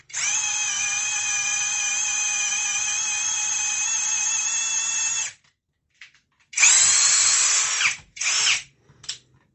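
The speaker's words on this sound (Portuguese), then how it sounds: "E agora essa parafusadeira, que tem mil rotações por minuto na alta e aproximadamente 300 rotações por minuto na baixa com alto torque." A compact cordless drill driver runs at low speed with high torque, giving a steady whine for about five seconds, then after a pause two more short, loud bursts, close and alone.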